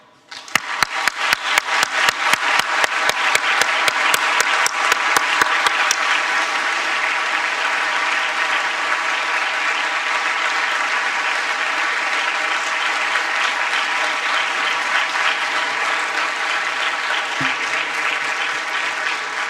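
A crowd applauds a speaker at a high-level UN launch of the State of Food Security and Nutrition report. A few sharp, separate claps open the sound, then they swell into loud, dense, sustained clapping that lasts nearly twenty seconds.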